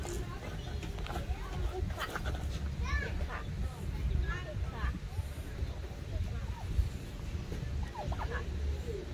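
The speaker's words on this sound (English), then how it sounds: "The turkeys." Turkeys gobble in bursts at a moderate distance over a steady low rumble, with people chatting in the background.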